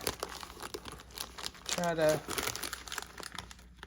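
Packaging of a bead subscription box from Potomac Beads being opened, with crinkling and tearing sounds of plastic or paper rising in the middle, heard up close with a voice talking at times.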